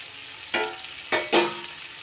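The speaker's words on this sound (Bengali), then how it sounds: "এইবার আমি এই পর্যায়ে দিয়ে দেব ভেজে রাখা আলু আর পটলগুলো।" Pre-fried potatoes and pointed gourd go into oily frying masala, a low sizzle with three distinct stirring scrapes close by.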